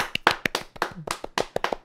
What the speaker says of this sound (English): Round of applause for Elmo.